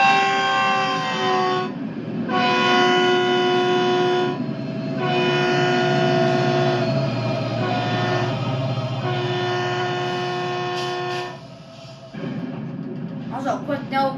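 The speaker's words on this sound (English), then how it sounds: "Now we'll do the pass by of the train." A commuter train on the Antelope Valley Line in Train Sim World 4 passes close and loud with a rumbling roar, and long sustained horn blasts sound over it, cutting off briefly near the end.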